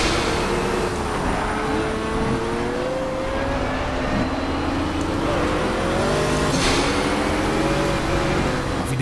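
Pagani Huayra BC in Project CARS at Road America, engine note climbing steadily under acceleration through rising gears, loud and continuous with tyre and road roar.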